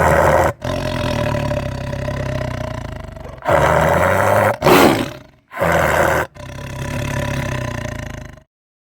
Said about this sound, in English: Wow, amazing! It's the tiger.